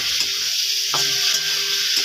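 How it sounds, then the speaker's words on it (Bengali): Turmeric-coated shrimp fry in hot oil, giving a steady low sizzle and hiss with a faint hum and a few light stirring clicks, close and uninterrupted. "আমি এবার ভেজে নেব চিংড়ি মাছটা।"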